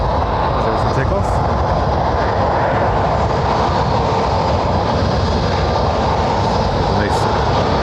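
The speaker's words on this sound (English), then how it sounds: "Year-old 737-800. There's the takeoff." A year-old Transavia Boeing 737-800 jet takes off at Lanzarote Airport, its engines producing a loud, steady, broadband roar that holds without a break for the whole stretch.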